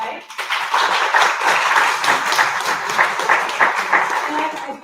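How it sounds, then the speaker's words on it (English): An audience at a heritage night of Buffalo Soldiers music and song gives a round of applause, a full and steady crowd of clapping hands that swells quickly and holds at an even level throughout. "Let's have a round of applause to start off tonight."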